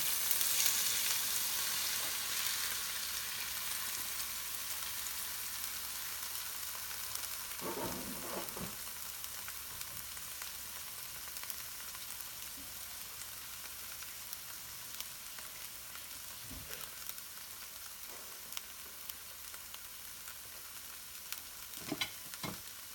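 Onions and tomatoes sizzle in a frying pan as a zucchini, tomato and corn dish is cooked, giving a steady close hiss of frying with a few stirring clinks and no talking.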